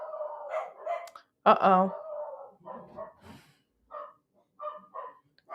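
Dog barking indoors, with several barks of varied loudness and one loud, sharp bark standing out, mixed with brief human voices.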